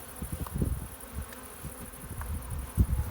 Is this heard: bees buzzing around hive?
yes